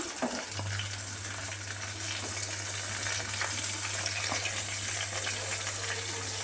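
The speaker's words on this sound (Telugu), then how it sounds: "ఆయిల్ హీట్ ఎక్కిన తర్వాత ఉల్లిగడ్డ, మనకు ఉల్లిగడ్డ మంచిగా ఉడికిపోవాలి" Onions frying in hot oil for a tomato and boiled egg curry, a continuous crackling sizzle with a steady low hum underneath, close and even throughout.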